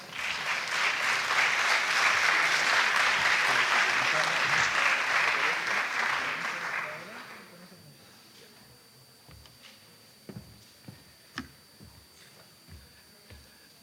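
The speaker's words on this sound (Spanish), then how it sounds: "Un aplauso para el doctor," Audience applauds a doctor at a medical congress lecture hall, a loud, sustained clapping crowd for about seven seconds that fades out, followed by quiet room noise and a few faint knocks.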